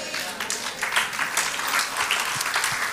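A church congregation applauds together in a dense, sustained wash of clapping that fills the room steadily throughout, with no other sounds standing out.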